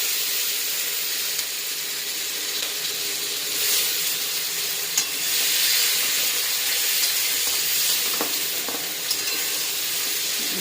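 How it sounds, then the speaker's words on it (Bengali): Panch phoron, bay leaf, onion, green chilli and tomato frying in hot oil, a steady close sizzle with occasional stirring clicks and hissing swells, no voices. "তেলের মধ্যে দিয়ে দেবো পাঁচফোড়ন, তেজপাতা, পেঁয়াজ, কাঁচা লঙ্কা"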